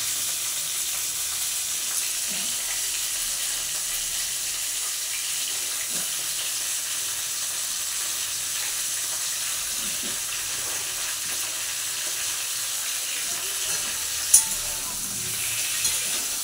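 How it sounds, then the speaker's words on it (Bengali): Cauliflower and diced potato fry together in a pan, making an even, continuous sizzling hiss throughout, with a sharp utensil tap near the end and no speech. "আলু ফুলকপি এবার একসঙ্গে ভাজতে ভাজতে এর মধ্যে দিয়ে দেবো কিছুটা কুচনো পেঁয়াজ।"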